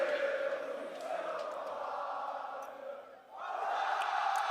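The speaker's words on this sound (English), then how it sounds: "the French crowd, you know, showing their support for Soaz and the rest of the team" A large French esports crowd at the League of Legends World Championship roars and cheers in support of Soaz and his team, a sustained wash of voices that dips briefly and then swells back.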